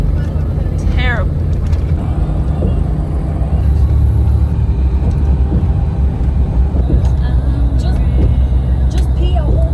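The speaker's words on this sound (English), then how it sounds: "Look at the traffic now. Terrible." Steady rumble of road traffic heard from inside a moving vehicle on the way toward New York City, a constant low drone lasting throughout, with people talking over it.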